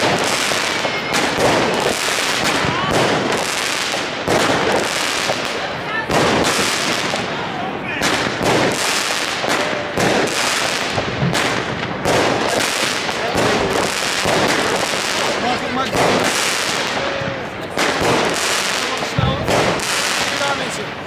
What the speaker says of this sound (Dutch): toch nog Duits vuurwerk.